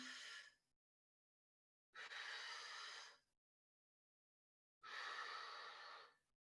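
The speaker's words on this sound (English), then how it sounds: "Sorry, you're hearing my breathing here." Three heavy breaths during a back exercise workout, each a rough, airy exhale lasting about a second, separated by silent pauses; close and fairly loud, with no talking.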